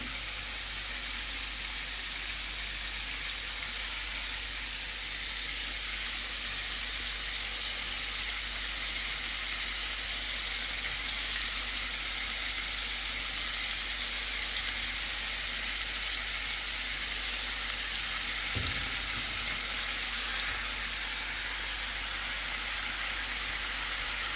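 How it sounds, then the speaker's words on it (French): Marinated white fish sizzles and fries steadily in a pan for a Moroccan dish, a constant broadband hiss with one brief clunk partway through and no voices. "Ensuite, on met le poisson blanc mariné."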